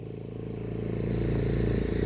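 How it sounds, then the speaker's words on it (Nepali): A motorcycle passing on a rural road in Nepal, a close engine drone rising steadily in loudness over two seconds with a rattling, revving edge, no voices. "उताबाट बाइकहरू आउँदैछ गाडी आउँदैछ"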